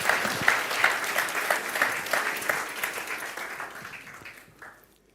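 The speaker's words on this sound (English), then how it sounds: "Give them a warm applause." Audience applause at the IMPAKT Festival 2024 opening, with distinct clapping bursts, fairly close, that gradually fades out to silence at the end.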